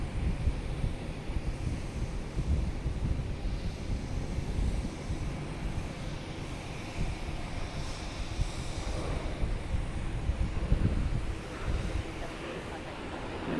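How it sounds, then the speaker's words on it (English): A JetBlue airliner with a special livery comes in at Boston's Logan Airport as a low, steady jet rumble, heard from a distance through wind noise. A person speaks quietly over it now and then. "Oh, we have a special livery, JetBlue coming in."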